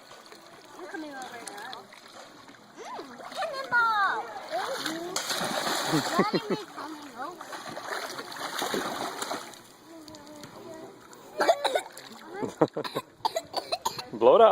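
A young girl swims and splashes in water, with bursts of close splashing and sputtering, coughing and throat clearing, while an adult speaks encouragement nearby.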